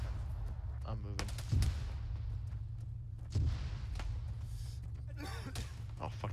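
Scattered gunshots in an Arma 3 combined-arms battle in Western Sahara, a few sharp reports and distant cracks over a low rumbling background, mixed with faint voices.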